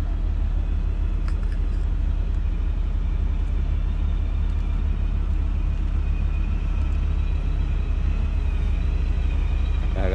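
A wheel loader's engine runs steadily on a work site, giving a continuous heavy low rumble at constant loudness with no voices present.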